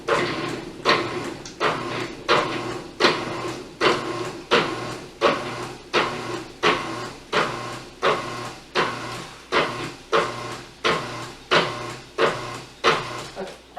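Butter being cut into a flour mixture for biscuit-like scones: about twenty evenly spaced, sharp thudding pulses repeat in a steady rhythm, close and fairly loud, with no talking.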